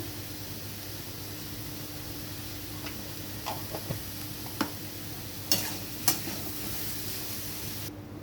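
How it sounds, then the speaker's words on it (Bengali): Boiled banana flower is stirred with salt in a pan, a soft steady sizzle under scattered scraping taps and clinks of a spoon against the pan, several sharper knocks toward the end; no talking. "তার সঙ্গে আমি দিয়ে দিচ্ছি মোচাটা, সেদ্ধ করে রাখা মোচা। এবার আমি এটা নাড়ব।"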